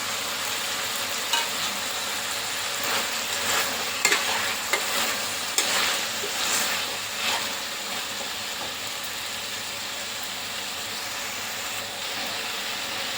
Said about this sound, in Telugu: ఇప్పుడు టమాటా వేసుకుందామండి.